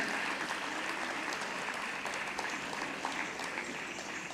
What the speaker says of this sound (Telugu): మీరు ఇంకా చప్పట్లు కొడితే వారికి చాలా ఆనందం